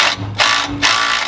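A ratchet tightens a bolt on a car, giving close, rapid bursts of clicking in two short strokes separated by brief pauses.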